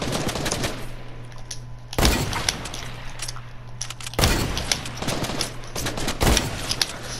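Three loud, sharp hand cannon shots from the Fortnite video game, spaced about two seconds apart. Each blast is broadband and echoes over a steady low game hum, with no talk.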